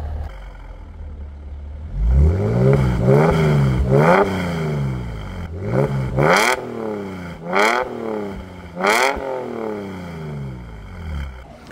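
Mercedes SLK exhaust revving: a series of throaty engine blips, each rising and falling in pitch, loud and close with short idle gaps between them.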